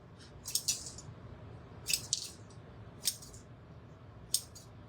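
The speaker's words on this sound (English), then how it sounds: "I'm just going to trim up these little ends." Scissors trimming small loose fabric ends on a handmade fabric strawberry, giving a few quiet, separate crisp snips spaced over several seconds against a faint background hush.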